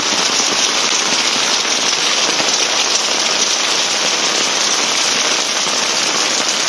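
Heavy rain pours down in a dense, loud, unbroken roar, drops pattering hard on surfaces all around.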